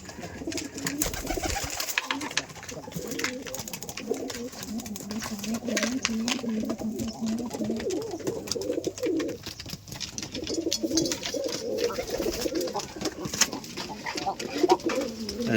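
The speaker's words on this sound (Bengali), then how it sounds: "মাদি কবুতর এই" A female red Rajshahi Giribaz pigeon coos close by in repeated low, throaty rolling phrases with brief pauses, while someone speaks faintly in the background.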